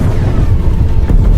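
A deep, rumbling boom from an explosion set off by gunfire at a tree fills the short clip, with a heavier low thud near the end, loud and close.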